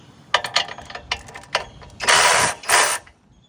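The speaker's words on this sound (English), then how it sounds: "You want to loosen this assembly now here." A post assembly is loosened with a few quick ratcheting clicks, followed by two longer, louder grinding bursts near the end.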